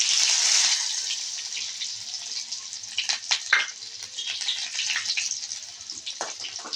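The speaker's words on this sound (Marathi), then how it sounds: "आता मोहरी वर आले त्यामध्ये आणि हे कांदे टाकणार आहे." Onions drop into hot oil with cumin and mustard seeds, setting off a loud hissing sizzle that settles into steady crackling and popping, heard up close with no talking.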